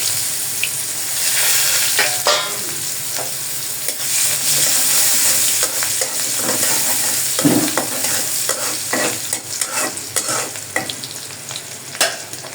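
Onions frying in oil with already-fried puti fish, stirred with a utensil. The steady close sizzle is broken by repeated scraping and clattering stirs, with no talk.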